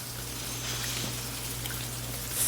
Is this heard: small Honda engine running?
no